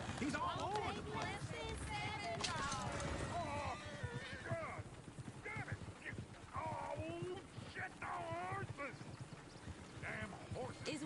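Horse hooves clip-clop in a PS4 video game, a steady patter running beneath near-constant talking voices; no clear whinny stands out.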